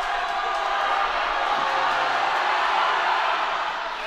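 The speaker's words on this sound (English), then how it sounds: "the crowd's letting us know their displeasure" A high school varsity boys basketball crowd in a gym voices its displeasure at the referees, a dense, sustained roar of booing and jeering that stays loud throughout.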